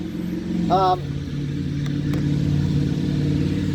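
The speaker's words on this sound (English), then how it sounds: "I'm outside, so you're gonna hear a lot of background traffic" Background road traffic heard outdoors: a continuous steady rumble of passing vehicles, with an engine swelling briefly and talk over it.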